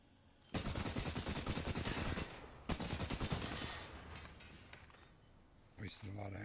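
Sniper gunfire in the video game Apex Legends: two long, rapid bursts of loud shots, each lasting a couple of seconds, followed by quieter game sounds and a few final clattering hits.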